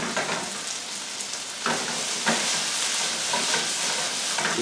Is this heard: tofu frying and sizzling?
yes